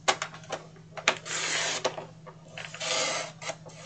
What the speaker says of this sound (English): I'm going to bring in my trimmer and we're going to trim this to 3 3/8.